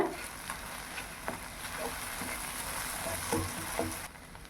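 Goat brain being mashed and fried in a pan with a ladle, a soft steady sizzle broken by several light scraping and tapping strokes of the ladle, close and fairly quiet.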